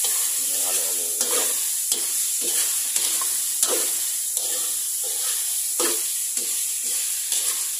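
Okra being stirred into pakbet vegetables in a hot pan, with a steady loud sizzle broken by repeated scraping stirs at a regular pace, close up and without talk.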